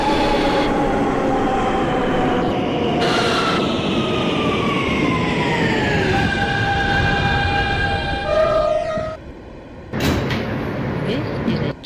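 Simulated New York City G subway train, an R160 car in OpenBVE, running between stations with a steady rumble, a whining motor tone that falls in pitch as it slows, a chime near the end, and an announcement voice over it.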